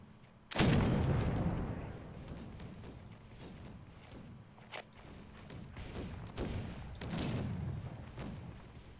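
Cannon fire in the pirate video game Caribbean! booms out in a heavy blast, followed by several more distant thuds and rumbling shots spread across the stretch, with no talking.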